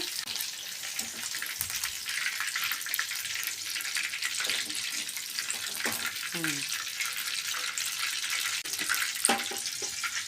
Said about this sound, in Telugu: తర్వాత కొద్దిగా చికెన్ వేసుకొని వేయించుకున్నాను.